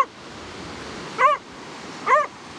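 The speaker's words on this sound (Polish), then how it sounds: "Aż Ferdzi szczeka." A dog on an empty Baltic Sea beach gives two short, bright barks about a second apart, moderately near, over a soft steady wash of background noise with no talking.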